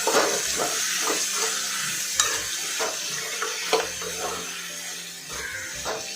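Bitter gourd sautés in oil with onion, salt and turmeric, giving a steady close sizzle with repeated scraping stirs of a spatula in the pan and no speech.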